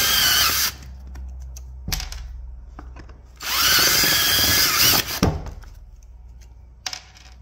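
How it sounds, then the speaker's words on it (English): A power drill whirs loudly in two bursts, grinding through metal rivets holding casters on a soft case, with quieter clinks and handling noise between them. "as we drill these rivets out"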